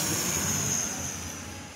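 An airplane comes in to land at Itami Airport in Osaka, a loud, close roar of jet engines with a high whine that fades slightly over the short span.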